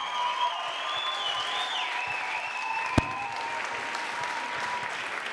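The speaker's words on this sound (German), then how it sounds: "Das klingt schon eher nach Applaus." Steady audience applause at a poetry jazz slam in a bar, a sustained crowd of clapping with a high tonal whine running through it and one sharp knock midway.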